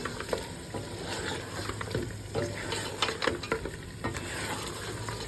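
Onions for a mutton gravy masala sizzle in a pan, stirred with intermittent scraping and clinking strokes over a continuous close frying crackle.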